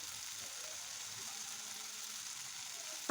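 Ground chilli and turmeric sizzling quietly in hot oil in a pan while a Bangladeshi boroi (jujube) pickle cooks, a steady soft hiss throughout, ending with a brief louder clatter.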